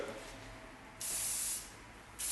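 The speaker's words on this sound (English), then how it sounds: "put the hairspray right through" Hairspray hisses from an aerosol can into hair during a blow-dry styling session, two short bursts about a second apart, close and clear in a quiet room.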